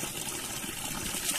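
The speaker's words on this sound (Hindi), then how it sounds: "ये पानी हमेशा वैसे के वैसे रहता है, हमेशा आता रहता है, कभी भी बंद नहीं होता।" Water from a mountain spring flows in a soft, steady gush, faint and continuous with no talk.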